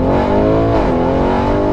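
A 2019 Porsche Cayenne Turbo tuned to 700 hp revs hard up close, a loud, continuous engine roar with a rising and dipping pitch, no voices.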